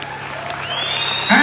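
An audience at a motivational speech breaks into applause, clapping rising and swelling toward the end of the brief moment.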